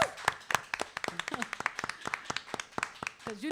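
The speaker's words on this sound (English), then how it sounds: "Can we give them a round of applause?" Scattered, uneven hand claps from a small gathering at Tia Oles Cafe ring out with sharp individual slaps rather than a dense roar, while voices murmur faintly underneath.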